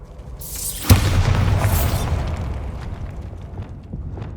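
A Confringo explosive spell blasts in Hogwarts Legacy: one sharp, loud boom with a rumbling, crackling tail that slowly fades over several seconds.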